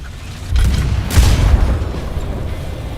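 A heavy aircraft bomb explodes in the tank combat game War Thunder, landing as a loud, deep boom with a sharp burst at about one second, followed by a long low rumble and debris noise that slowly fades.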